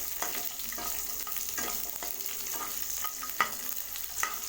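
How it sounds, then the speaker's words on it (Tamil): Small onions sauté in a pan for sambar rice, a steady close sizzle of frying with periodic scraping strokes of a stirring spoon, alone without any voices. "ஆட் பண்ணிவிட்டு வெங்காயம் நல்லா வதங்கட்டும்."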